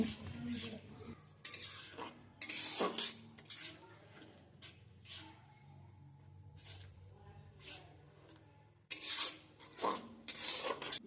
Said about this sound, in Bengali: এই পর্যায়ে আমি কিছুটা জল দিয়ে দিচ্ছি, যাতে করে মশলাটা পুড়ে না যায় আর খুব ভালোভাবে মশলাটা কষাতে পারি।